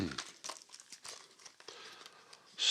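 A flat-pack camping stove for motorcycle trips is folded up by hand, giving quiet, close, crinkly taps and clicks in an irregular series, with a sharper scrape at the end.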